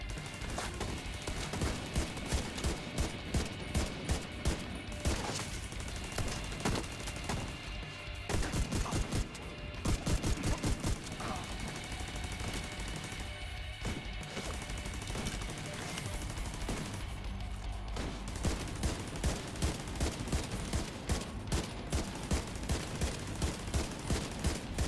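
Gunfire in The Division 2 runs through the whole stretch as steady rapid automatic fire, loud and close, with brief pauses between bursts and heavy combat noise underneath.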